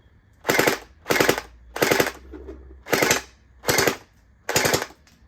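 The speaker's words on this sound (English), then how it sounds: "So I guess we can shoot a couple first at the tree" A Splatrball SRB800 Pyro gel blaster fires six loud, sharp shots outdoors, aimed at a tree, each a short burst spaced about 0.6 seconds apart in an even rhythm.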